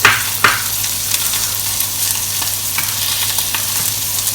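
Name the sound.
bell pepper frying and sizzling in a pan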